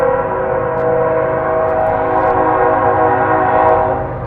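A passing train sounds its horn in one loud, continuous, sustained blast that holds steady for several seconds, close by and without talk.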